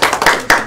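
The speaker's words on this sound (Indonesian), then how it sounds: "beri tepuk tangan untuk kelompok 1" A few sharp hand claps ring out in an Indonesian classroom for a student group, close and loud, three quick uneven bursts before stopping.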